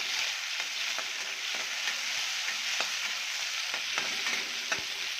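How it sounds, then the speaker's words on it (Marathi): Chopped red tomatoes are sautéed with onions in a pan, making a steady soft sizzle with occasional light clicks of a stirring spoon against the pan, moderately quiet and without speech. "आता टोमॅटो बारीक लाल टोमॅटो आहे करून घेतले ते ॲड करूया छान याला आपण परतून घेऊया"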